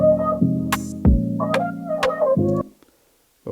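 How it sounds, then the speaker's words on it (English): An open hi-hat drum sample in Logic Pro X hisses in a few short, bright bursts inside a beat, over sustained synth chords that cut off near the end. "Next thing we'll do an open hi-hat."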